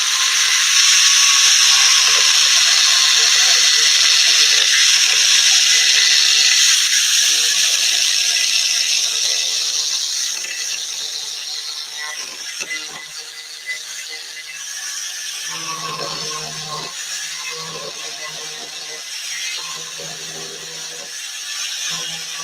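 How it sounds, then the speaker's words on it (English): An Arbortech ball gouge with a spinning carbide ring carves contoured shapes in wood, giving a sustained high whining, squealing grind that starts loud and eases into choppier, intermittent cutting bursts, with no talk. "The ball gouge has a carbide ring around it that spins around and carves in nice contoured shapes."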